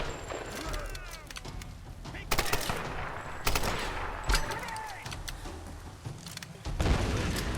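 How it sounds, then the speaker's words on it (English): Rapid weapon fire and blasts from the Tomb Raider video game, with a grenade launcher in use; loud repeated bursts and booms over a rumbling game soundscape, with a voice talking intermittently. "I'm a really terrible shot with the grenade launcher."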